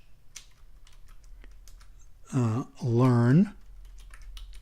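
Scattered light computer keyboard keystrokes entering text, soft and close, interrupted by a short stretch of talking before the tapping resumes.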